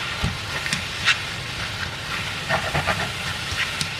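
A steady sizzling hiss with scraping and clinking of a utensil against an old, worn wok that food is starting to stick to, a few sharper scrapes standing out, while stir-frying.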